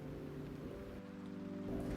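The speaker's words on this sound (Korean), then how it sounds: "빗소리 참 듣기 좋아요." Steady rain falling at night on a motorcycle campsite with a tarp overhead, a soft, even patter heard close and alone, with no talking.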